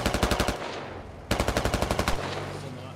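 A BTR armored vehicle's mounted machine gun fires in the Squad video game, with two loud rapid bursts of rhythmic automatic fire separated by a short gap.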